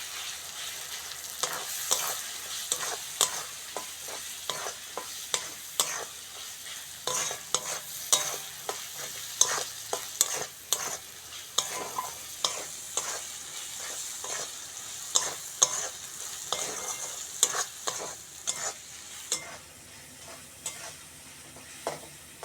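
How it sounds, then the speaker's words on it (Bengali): Prawns frying in a pan with chili powder, salt and spices for a Bengali prawn curry, sizzling steadily while a spatula scrapes and stirs in frequent rhythmic strokes, close and alone. "লঙ্কার গুঁড়ো লবণ চিংড়ির সঙ্গে মশলাগুলো ভালো করে ভেজে নেবো"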